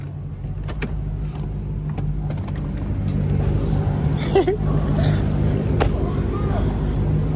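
A Hellcat with an underground tune cruises through streets at night, its engine a steady, loud, low rumble heard from inside the cabin, with voices talking over it.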